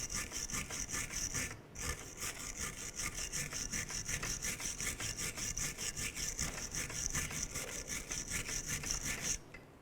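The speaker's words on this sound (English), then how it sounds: "We want to go ahead and use our bristle brush and clean" A stiff bristle brush scrubs the brake pad slider area on the rear brake caliper bracket of a 2008-2012 Honda Accord, making rapid, rhythmic back-and-forth scratching strokes, close and steady, with a brief pause near the start.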